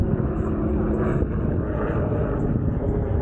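A helicopter arrives at the Steeleford supercar show. A loud, steady rotor-and-engine drone rumbles continuously throughout, with no voices.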